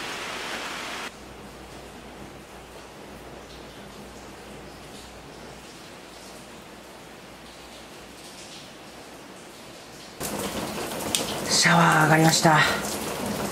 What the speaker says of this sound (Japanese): 雨の音聞こえますか？